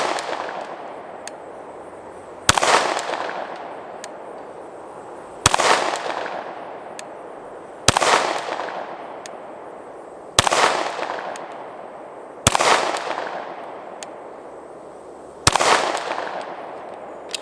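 Canik TP9 Elite SC subcompact pistol fires seven sharp, loud single shots at a steady pace a couple of seconds apart, each with a short decaying echo, on an outdoor range with no talking.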